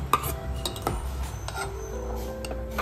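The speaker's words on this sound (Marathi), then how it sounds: "त्याला पण छान असं आपण मिक्स करून घेणार आहोत." A spoon stirs grated fresh coconut into rice kheer in a pot, clinking and scraping against the metal in irregular taps and knocks, close and fairly loud.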